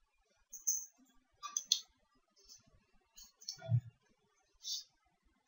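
Computer mouse clicks while installing phpBB3 web board software, a handful of short, sharp, fairly quiet clicks scattered irregularly, with light keyboard-like ticks between them.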